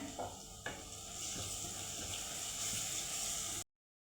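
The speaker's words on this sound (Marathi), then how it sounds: "हिरव्या मिरचीचं वाटण पण आपलं फ्राय झालेलं आहे" Green chili paste fries in a pan with golden-brown onion, cumin and mustard seeds, making a faint, even sizzle with a couple of soft knocks early on before it cuts off abruptly.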